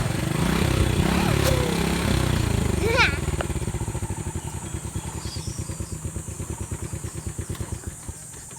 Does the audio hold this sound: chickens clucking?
no